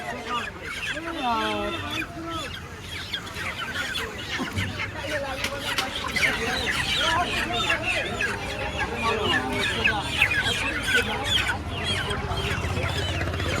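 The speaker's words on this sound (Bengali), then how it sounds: "ছোট বড় সমস্ত রকম সাইজের মুরগি পাওয়া যায়" Many chickens cluck and squawk continuously at a busy wholesale chicken market in Kolkata, with a dense, close chorus filling the whole stretch. Voices murmur faintly underneath.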